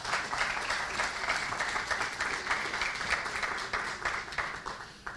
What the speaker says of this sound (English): thanks for the applause, because we're filming this